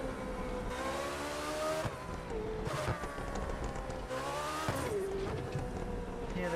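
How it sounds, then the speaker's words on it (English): Engine note from a revving car in the racing game The Crew 2, rising and falling in pitch, with faint popping crackles from the exhaust, steady and loud throughout. "Hear the crackles as well coming from the exhaust note."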